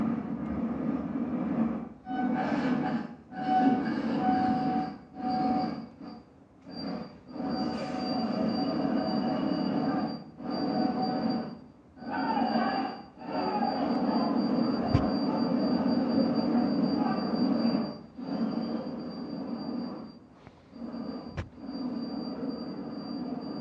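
A passenger train pulls away near Patna with loud, sustained metallic wheel squeal and rumbling rail noise, pulsing and breaking up in repeated surges as carriages roll past close by.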